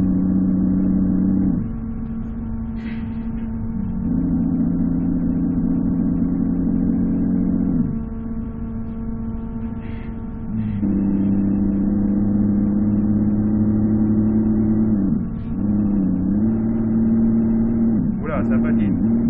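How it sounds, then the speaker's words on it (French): A modified Peterbilt 379 truck engine in a driving video game drones at a low pitch, rising and falling through several rev changes and gear shifts, loud and continuous for the whole stretch. "c'est un petit test d'un camion un peu gonflé"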